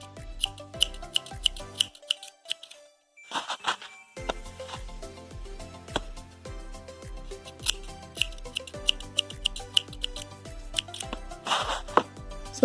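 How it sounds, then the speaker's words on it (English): Scissors snipping saree tassel threads, spread out for an even trim: a steady run of crisp, close clicks and snips, with a short pause partway through, under light background music and no speech. "we'll just spread it like this and give it a trim."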